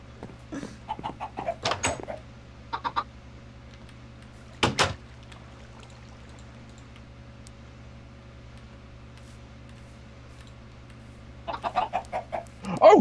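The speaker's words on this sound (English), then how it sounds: "Another baby chicken!" Chickens cluck in Minecraft in a few short bursts near the start, once around the middle and again at the end, with quiet game ambience and soft knocks between them.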